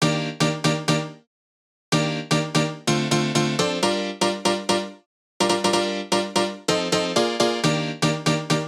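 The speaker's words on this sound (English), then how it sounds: "M1 piano and another one, which is a synth piano." M1 piano layered with a synth piano, bright stabbed chords in rapid repeated rhythmic bursts, broken by two short gaps, loud and alone.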